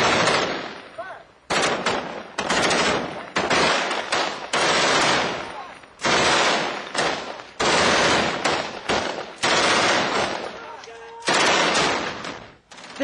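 Heavy gunfire rattles through street fighting in Iraq, with loud, close bursts of rapid automatic fire repeating in long volleys and brief gaps, sustained throughout.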